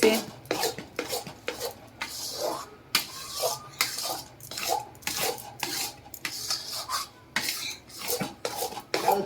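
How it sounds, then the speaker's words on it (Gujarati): A utensil scrapes and clinks against a pan while mawa milk solids with sugar are stirred for pedas, a quiet rhythmic series of scraping strokes and metallic taps. "હવે જો બા હલાવે છે માવો ને સાસણી મિક્સ થઈ ગઈ"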